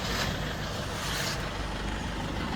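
A Toyota safari vehicle backs up on a track in Yala National Park, Sri Lanka, a steady, fairly loud broadband engine rumble mixed with outdoor noise and no clear pauses.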